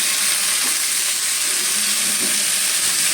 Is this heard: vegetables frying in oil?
yes